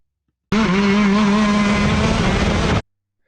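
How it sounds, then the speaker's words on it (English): A shifter kart engine revs under throttle, a sharp buzzing howl that rises steadily in pitch for a couple of seconds between silences, close and loud. "Let's listen to that throttle application."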